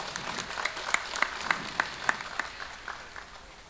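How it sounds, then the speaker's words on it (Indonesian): Audience applause, a faint spread of scattered hand claps with a handful of sharper, distinct claps standing out near the start before the sound thins and fades. "Tepuk tangan, tepuk tangan."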